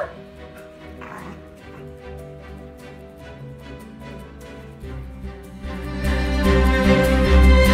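A beagle on a hammock whimpers and yips in short, high whines close by, with the noise growing louder and denser toward the end.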